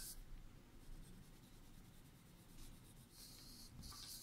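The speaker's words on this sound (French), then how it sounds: "je vais prendre mes crayons de couleur pour colorier mon koala" Colored pencils rub across paper while a koala drawing is filled in, a soft, close, continuous scratchy shading stroke with no voice.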